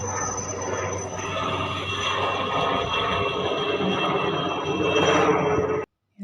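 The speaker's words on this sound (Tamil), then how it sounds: "நான் போகும்போது அங்கே ஹெலிகாப்டர் பறந்துட்டு இருந்துச்சு." A helicopter flies overhead, its engine droning at a steady, moderate level for several seconds before the sound abruptly cuts out near the end.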